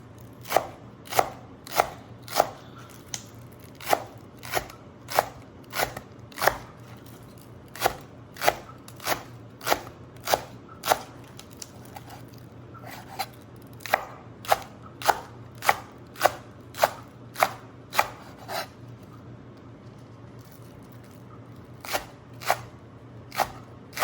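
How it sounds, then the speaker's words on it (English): A knife slices through food onto a cutting board while pho ingredients are prepared, making a long run of crisp, evenly spaced thuds that pause briefly twice before the rhythm resumes, near and clear with no talking. "Just going to slice it in half. And once again, just put it together. Just do a diagonal slice."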